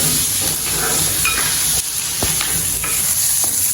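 Tomatoes going into a pan of sautéing ginger and garlic, a loud, dense frying sizzle with steamy hiss and a few scraping stirs, close up and continuous without talk.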